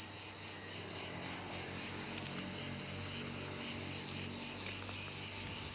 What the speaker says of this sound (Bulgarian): Цикадите, аз преди малко минавах насам, като ме чуят и такова.